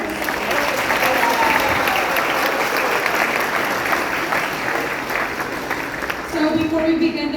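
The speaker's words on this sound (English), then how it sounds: "Let's get another round of applause for that discourse." Sustained audience applause fills a Hare Krishna temple after a Sunday love feast lecture on Lord Ram's appearance, a steady dense clapping wash that carries throughout with a bit of voice mixed in near the end.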